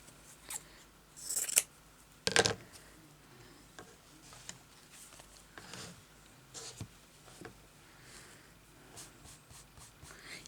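Scissors snip through fabric while patchwork pieces are cut, giving a few short, crisp cuts close by, with two louder bursts early on and softer scattered ticks and rustles afterward in a quiet room.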